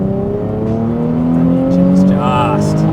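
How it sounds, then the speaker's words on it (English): The engine of a Nismo 380RS, a Nissan 350Z Z33, pulls hard uphill, a loud, steady, rising drone with climbing harmonics across three seconds, heard from inside the car. "yeah, the engine's exceptional in this car"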